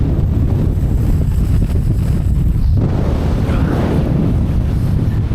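Strong wind buffets an exposed campsite on arctic-like high ground at 2,500 feet in freezing conditions, a loud, continuous low roar rumbling across the microphone with no voices.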